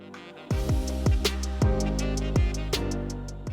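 A Revair reverse-air hair dryer runs close and loud with a strong droning motor tone whose pitch sags and recovers roughly every half second, as if the airflow is briefly choked.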